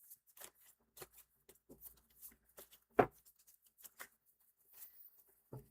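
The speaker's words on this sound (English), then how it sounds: "One more good shuffle." Tarot cards being shuffled by hand at close range: soft, sparse flicks and riffles with one sharper slap, quiet and intermittent against near silence.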